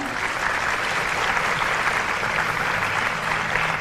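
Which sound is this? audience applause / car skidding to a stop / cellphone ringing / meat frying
audience applause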